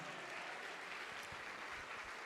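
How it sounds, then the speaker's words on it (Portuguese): Church congregation applauding in praise of Jesus, a steady broadband patter of clapping throughout, fairly distant and soft, with no voices over it. "Vamos aplaudir mais ao nome de Jesus."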